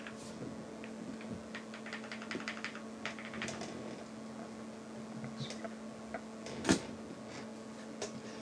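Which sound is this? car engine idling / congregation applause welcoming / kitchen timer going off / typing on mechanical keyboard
typing on mechanical keyboard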